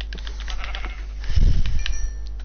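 A sheep in Minecraft bleats once, loud and close, over a steady low hum.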